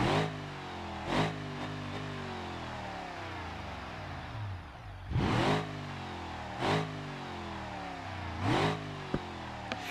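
A car engine in BeamNG.Drive, fitted with a sport muffler and dual exhaust, revs in repeated sharp bursts, with pops and crackles between throttle blips as the revs rise and fall, loud and close with no voices.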